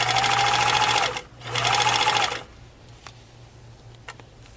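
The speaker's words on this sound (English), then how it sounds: "each time that you have to sew lycras or some stretch fabrics, you have to use the ballpoint needle" Sewing machine with a ballpoint needle stitching stretch lycra fabric into straps, two loud close bursts of rapid stitching about a second each, then quieter handling sounds.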